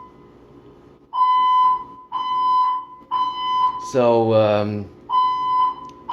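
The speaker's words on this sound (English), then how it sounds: "Another fire alarm." A building fire alarm sounds in repeated loud buzzing tone bursts, about one per second, with someone speaking briefly over it mid-way.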